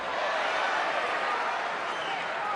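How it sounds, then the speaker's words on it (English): Boxing arena crowd during a Marquez–Casamayor fight, a steady dense roar of many voices with a soft applause-like wash, loud and continuous with no distinct peaks. "Crowd going to react every time Marquez scores"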